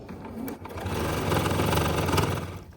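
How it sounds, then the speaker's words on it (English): A sewing machine stitches around a fabric bowl cozy, a steady, close mechanical whirring hum that speeds up and holds, with no speech. "when it comes out of the sewing machine"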